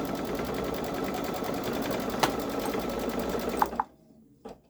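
A Babylock Solaris 3 machine quilts a sweatshirt with a steady, close, rapid stitching hum that runs continuously, then stops abruptly, leaving a couple of soft clicks.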